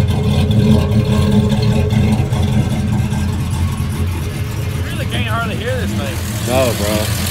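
A freshly built 5.3 V8 idles steadily right after its first start, a close, continuous low rumble, with people talking over it toward the end.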